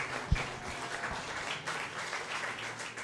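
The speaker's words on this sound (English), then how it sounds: "Let's give them a big round of applause." Diners at a Pizza Republica dinner applaud the restaurant's service team. A thick, even wash of clapping from many hands carries steadily through the room at moderate volume.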